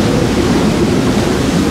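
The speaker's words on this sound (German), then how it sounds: "Ich weiß nicht, ob man das Heulen hört von dem Wind." A brief, loud burst of gusting wind and surging sea surrounds a single-handed sailboat on the open North Atlantic, a dense, constant rush of noise heard up close without any speech.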